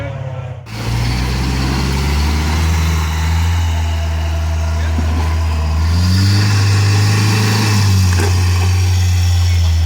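An off-road vehicle crawls over rocks on a trail at Elbe Hill, its engine rumbling loud and close, easing off briefly and then revving higher as it climbs.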